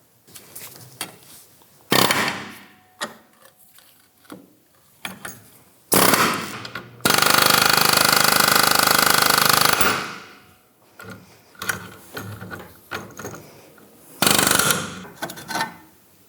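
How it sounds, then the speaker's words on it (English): Air chisel hammering at the edge of a lower control arm bushing on a 1997-2006 Jeep Wrangler, loud close bursts of rapid pneumatic rattling, one long sustained run, separated by quieter clanks and pauses. "We're gonna use our air chisel and we're gonna get behind the edge here and try and work this"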